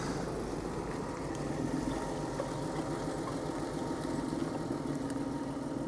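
A Honda NSX idles close by, its engine giving a steady, even rumble at moderate loudness with no break throughout.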